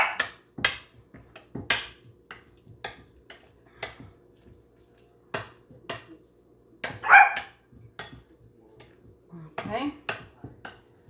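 A pet dog named Louie barks in short, sharp bursts at irregular intervals in a home kitchen, with a person talking between the barks and some clatter of pans.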